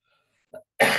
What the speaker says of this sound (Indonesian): kebetulan ini batuk-batuk